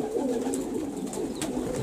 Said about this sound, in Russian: Ну, голуби наши голуби.